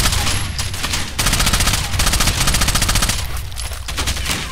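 Mounted machine gun in Rainbow Six: Vegas 2 pounding out rapid sustained bursts of automatic fire, loud and close, with brief gaps between volleys.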